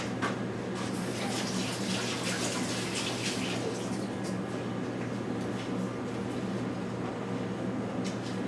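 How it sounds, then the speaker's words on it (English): Hands are rinsed under a running kitchen tap, a steady, even gush of water that continues unbroken throughout at moderate volume, with no one speaking. "I'm going to give my hands a little bit of a rinse"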